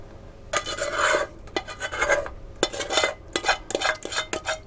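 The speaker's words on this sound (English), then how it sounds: "And I'll start firstly by stirring. And then whisking." A spoon stirs Guinness chocolate cake mixture in a bowl, with repeated scraping, rasping strokes against the sides in uneven bursts, close and fairly quiet, with short gaps between strokes.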